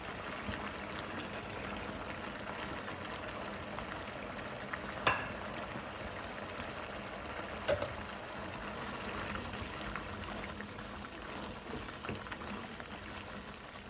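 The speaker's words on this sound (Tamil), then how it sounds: "நல்லா கிளறி விடணும்." Mint chicken curry frying in a pan with garam masala, a soft steady sizzle under occasional stirring scrapes and clinks, quiet and close.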